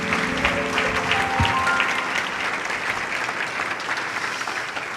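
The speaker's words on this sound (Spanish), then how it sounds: "Denle un aplauso al Señor." A church congregation applauds steadily, with dense clapping throughout and a few voices in the background, loud and fairly close.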